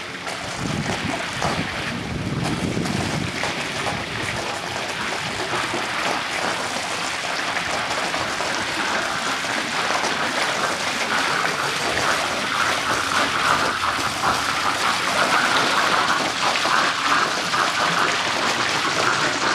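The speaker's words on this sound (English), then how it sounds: "Still gurgling there, so yeah, it's working." Pool pump system gurgling with air still trapped in the lines, a steady continuous churning water rush with broadband hiss that persists throughout, loud and close with no talking.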